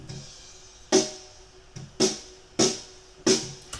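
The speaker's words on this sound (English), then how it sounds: "You can hear how the bottom has the rattling of those snares." Four sharp snare drum hits captured by a bottom microphone in an uneven rhythm, each followed by a buzzy rattle of the snare wires, close and fairly loud with no voices.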